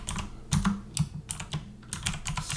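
Quick bursts of keystrokes clatter on a computer keyboard, close and crisp, in uneven clusters as a name is typed, with no voices.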